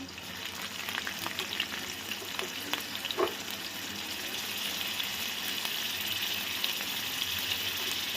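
Chilies, ginger and garlic stir-fry in oil for fried rice, giving a steady low crackling sizzle with scattered stirring scrapes early on, close and fairly quiet without speech.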